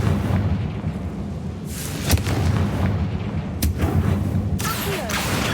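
Confringo fire spell blasting in the Hogwarts Legacy video game inside a tomb: a dense, rumbling explosive roar with a few sharper cracks, loud and continuous throughout.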